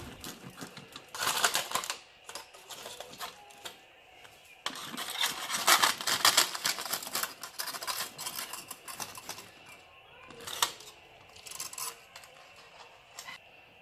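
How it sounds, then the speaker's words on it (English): Knife cutting through BBQ naan bread on a board, faint scratchy rasping strokes in bursts with short pauses between them, close and quiet. "I will cut the naan like this."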